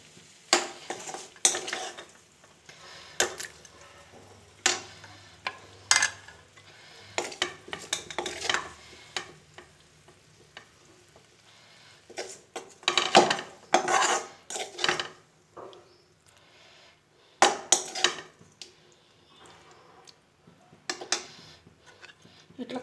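Dal being stirred in a metal pot while making sambar with drumsticks and vegetables: irregular bursts of scraping and clinking from a spoon against the pot, some close and sharp, separated by brief quieter gaps.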